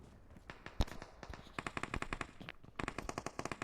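Rapid automatic gunfire bursts in the mobile battle royale game BGMI, quick rattling volleys with short gaps and a single sharp shot early on, moderately quiet overall with no talking.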